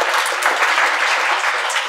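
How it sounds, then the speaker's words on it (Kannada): Audience at a free meditation class at a Lions Club hall in Bengaluru claps loudly and steadily, a dense near wash of many hands lasting the whole moment with no speech over it. "ಧ್ಯಾನದ ಮಾಸ್ಟರ್ಗಳು, ಜೋರಾಗಿ ಚಪ್ಪಾಳೆ ನಿಮ್ಗೆಲ್ಲರಿಗೂ."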